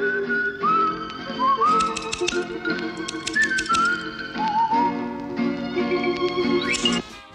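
Cartoon characters from «Ну, погоди!» whistle the melody of a song from the film «Вертикаль», a clear, bright tune of sliding and held notes played alone with no talking.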